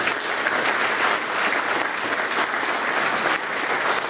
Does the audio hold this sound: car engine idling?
no